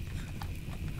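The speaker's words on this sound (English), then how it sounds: "We do have a horse, which we picked up." Horse hooves in the video game RimWorld clip-clop in a steady rhythm at moderate volume, with a brief brighter tone standing out partway through.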